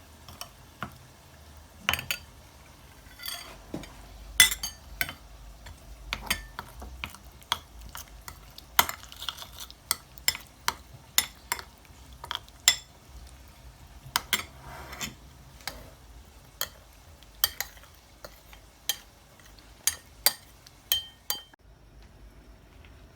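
Colored raw papaya pieces for tutti frutti are mixed in a bowl. A spoon gives steady, irregular sharp clinks and ticks, close and distinct, over a quiet background with no voices.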